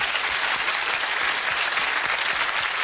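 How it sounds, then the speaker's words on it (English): A studio audience at a television game show claps steadily in a dense, even wash of applause throughout, with no voices standing out. "I think they're worth a round of applause for still standing."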